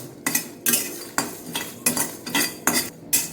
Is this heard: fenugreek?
yes